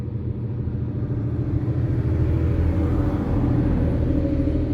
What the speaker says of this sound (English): Now that sounds like a truck, an 18-wheeler.